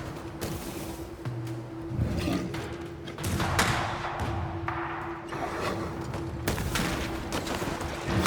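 Gunfire at a fort under attack in the video game Banishers: Ghosts of New Eden, scattered shots and thuds over a steady droning hum, loud and fairly close.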